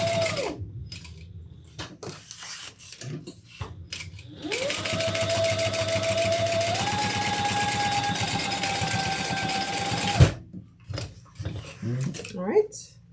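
A sewing machine stitches red thread through black fabric, running in a steady, loud whir for several seconds, with short bursts before and after and a voice talking between runs.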